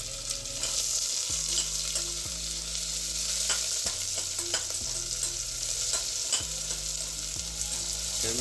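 Food for paneer biryani fries in a pan with a loud, steady sizzle. Occasional stirring scrapes and clicks sit over it, and a low hum rises and drops in steps underneath, close and continuous with no talk.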